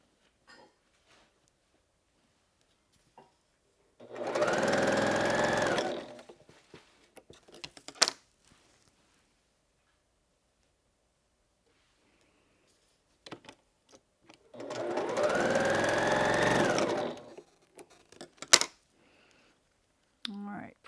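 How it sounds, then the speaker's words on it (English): Sewing machine stitching with 50 weight Aurifil cream thread, two bursts of a few seconds each of steady rapid whirring, separated by quiet stretches with small clicks and handling noises. "I'm stitching with a 50 weight Aurifil in my machine"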